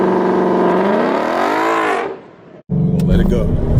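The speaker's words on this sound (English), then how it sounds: "so we're gonna rev it to 3." A 2018 Ford Mustang GT V8 engine revs up and holds steady at about 3,000 RPM for trans brake use, loud and close, then cuts out briefly before roaring again as the car launches.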